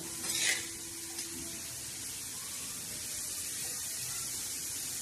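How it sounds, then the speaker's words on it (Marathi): Onion frying in a pan for a green okra stir-fry with chilies and tomatoes, a steady loud sizzle after a brief stirring scrape at the start, no voices. "तर आता मस्त असं कांदा फ्राय होत आहे"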